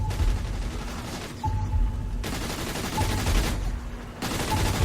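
Rapid gunfire bursts from the video game Saints Row 3 come in repeated volleys of a second or so, separated by short pauses and set against a low rumbling game background.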